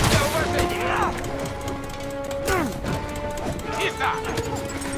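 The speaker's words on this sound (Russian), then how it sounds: "Взрывы происходят." Explosions and crashing impacts in Marvel's Spider-Man Remastered, loud bursts at the start and again around the middle, layered with the game's sound effects and music.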